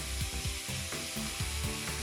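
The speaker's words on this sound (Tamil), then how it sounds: "நல்லா எண்ணெயிலே நல்லா வதங்கட்டும்." Eggplant and tomatoes sautéing in oil for a South Indian brinjal gravy, a steady sizzle broken by rhythmic scraping and stirring strokes of a utensil against the pan.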